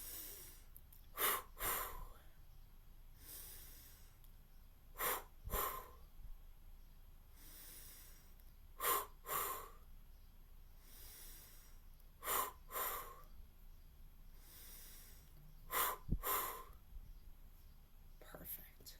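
A few deep, slow breaths drawn in and let out during a guided exercise for stuttering, each inhale and exhale clearly audible and close, with quiet gaps between them.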